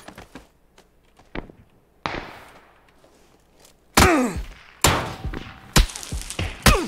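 Gunfire rings out in a PUBG match, sharp loud cracks that come singly and in clusters, some trailing off with echoing tails, with quieter thumps scattered between them and no voices.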